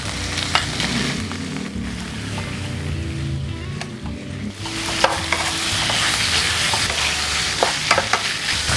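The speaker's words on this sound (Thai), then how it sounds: "ผัดพริกแกงให้หอมก่อนนะคะพอพริกแกงเริ่มหอมก็ใส่หมูสามชั้นเลยค่ะ" Pork belly stir-fried with red curry paste in hot oil, giving a continuous close sizzle broken by irregular scraping and clattering stirs.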